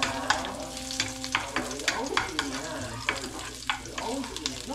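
Garlic sautés in a pan at home, sizzling steadily while a utensil stirs and scrapes with repeated sharp clicks, close and fairly quiet, with no talking.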